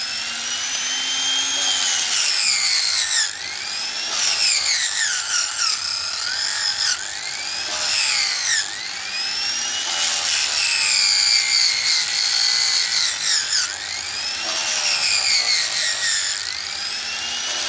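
A power tool sharpens a knife with 1000 grit sandpaper, giving a continuous high whine with rhythmic rising and falling sweeps as the blade is worked back and forth, close and steady.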